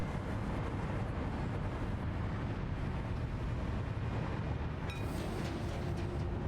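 Steady rumbling of a moving train ride in Satisfactory, continuous low mechanical noise with a faint higher whine joining near the end, no talking.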